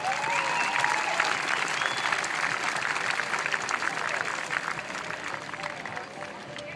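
A rodeo arena crowd breaks into sustained, dense applause and cheering after horse-mounted soldiers perform a cavalry drill maneuver called the wheel. The clapping stays loud and steady throughout, tapering only slightly at the end.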